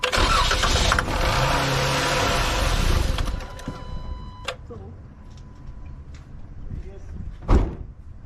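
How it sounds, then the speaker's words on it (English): 2013 Dodge Challenger whose engine cranks but will not start because no fuel reaches it: a loud, steady cranking whir for about three seconds, then quieter mechanical noise and a sharp thump near the end. "Crank the engine."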